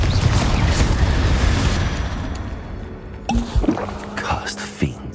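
Confringo blasting curse from Hogwarts Legacy on hard difficulty, a dense roaring blast that rumbles for several seconds, followed by sharper pops and impacts amid combat noise.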